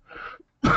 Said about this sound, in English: excuse me for my cough.